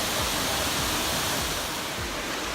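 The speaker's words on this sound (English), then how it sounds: "Well, it's a pretty waterfall." A waterfall in Killarney National Park, Ireland, roars with a close, loud, continuous broadband rush of falling water, steady and unbroken, with no voices.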